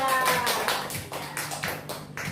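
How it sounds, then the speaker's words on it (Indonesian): A short burst of hand clapping from a class group, a steady patter of claps lasting a couple of seconds. "tepuk tangan untuk kelompok 2"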